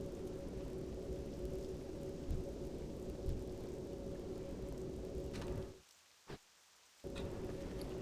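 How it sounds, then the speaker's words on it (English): Steady rain pours outside a house, a dense continuous hiss with a couple of soft distant thunder rumbles, then the sound drops out abruptly near the end, as if the power cut, with one brief burst before it resumes. "Like, at my house it's raining also."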